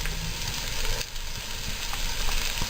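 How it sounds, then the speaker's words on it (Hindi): Chopped onion frying in three tablespoons of hot oil in a pan, a steady loud continuous sizzle up close with faint stirring scrapes and no talking. "3 टेबलस्पून ऑयल डाल दिया, मैं इसमें प्याज ऐड कर दूंगी"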